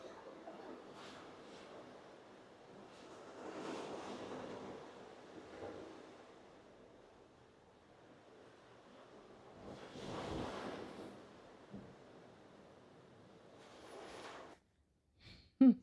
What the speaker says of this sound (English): sitting out here on a balcony at night and just listening to the water just gently lapping against the boat